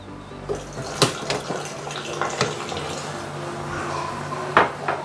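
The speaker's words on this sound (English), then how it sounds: "And 2-3 tablespoons of hot water." Hot water runs and splashes steadily into a bowl nearby, with a few light clinks of dishware over the flow.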